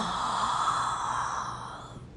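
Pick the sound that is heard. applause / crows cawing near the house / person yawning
person yawning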